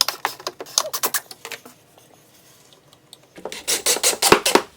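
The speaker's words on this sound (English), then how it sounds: "we'll watch me put in the screws on the back side of the skirt" A power driver runs pocket screws into the back of a wooden bathroom vanity skirt in two raspy, grinding bursts of whirring and rattling, separated by a brief quiet pause.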